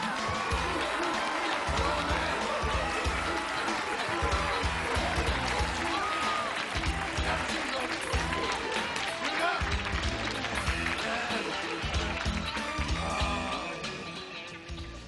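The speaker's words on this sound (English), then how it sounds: "So please, give a big round of applause to Mr. Roland Big." Studio audience applause on a comedy sketch show, a loud continuous wash of clapping and some cheering for about fifteen seconds, fading slightly near the end, with speech-like tones mixed in.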